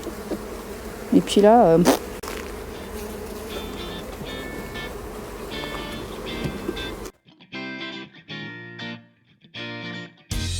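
Honey bees from hives whose two colonies have swarmed buzz in a dense, wavering drone, with a sharp close pass early on. A voice speaks briefly, and the sound then breaks into choppy, intermittent stretches.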